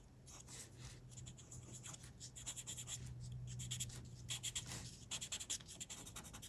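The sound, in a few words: pencil drawing on paper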